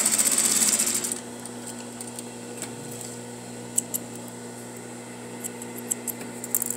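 A sewing machine back tacking a quarter-inch seam on a welt-bound pocket runs in a brief fast whir at the start, then falls quiet with a few faint ticks and clicks.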